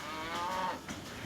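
Monty, a pet cow kept in a farm herd, lets out a single low moo, faint and somewhat distant against a steady background hiss.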